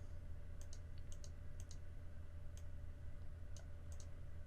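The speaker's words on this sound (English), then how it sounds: "I can just use the arrow keys on the keyboard to do some bumping." Arrow keys on a computer keyboard are pressed in small bursts of light, crisp clicks, mostly in pairs with a few single taps, faint and close over a steady low hum of room noise.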